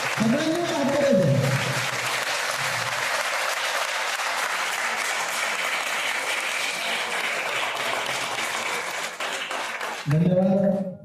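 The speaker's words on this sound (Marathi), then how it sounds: "पुन्हा एकदा सर्व मान्यवरांसाठी एकदा जोरदार टाळ्या होत्या" A crowd at a women's empowerment event in Chhatrapati Sambhajinagar gives sustained applause lasting about ten seconds, with a person speaking over the start and end of the clapping.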